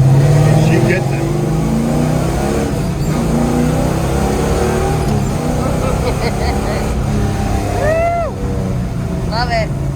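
A 1970 Pontiac GTO with a 4-speed stick shift accelerates, its engine rumbling loud and close throughout with rising pitch sweeps near the end, while people talk over it.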